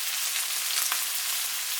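A pan of chicken udon stir-fry with bok choy, tomato and onion hisses and crackles continuously up close, one faint knock standing out briefly against the steady sizzle.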